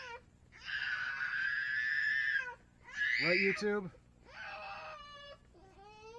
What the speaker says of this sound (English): I'm sorry about the screaming in the background.